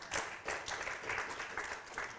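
Audience clapping at a university research seminar in a French education department, a short burst of mixed hand claps heard close and fairly steady across the room.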